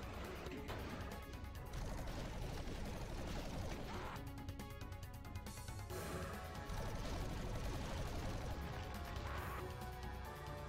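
Plasma rifle firing in a Doom megawad, with rapid repeated energy shots in fast bursts over dense game sounds and impacts, loud and continuous with no talking.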